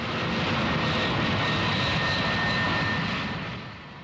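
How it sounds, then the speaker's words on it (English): Antonov cargo plane engines winding up for takeoff on a short runway, a loud, steady roar with a high whine held for several seconds before easing slightly at the end. "And as he winds those engines up, you can see probably a lot of dust starting to fly behind those engines."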